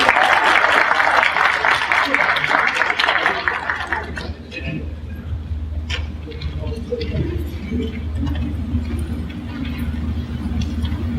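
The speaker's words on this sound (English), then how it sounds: "give a very round of applause" Audience applause at an NAACP education forum in Kansas City, a dense wash of clapping that fills the room for about four seconds, then fades into a low murmur and scattered noise.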